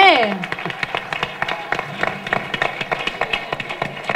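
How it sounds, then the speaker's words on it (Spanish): Audience applause at a holiday-season variety show: a steady patter of claps runs through the whole stretch, with a voice speaking loudly over it. "Un aplauso para ellos y al Capitán Salami, hombre."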